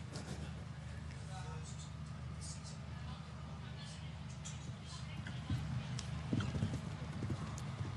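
Horse hooves clip-clop steadily across the arena during a 160 show jumping grand prix jump-off, with a crowd murmuring and a commentator talking over the continuous rhythmic footfalls.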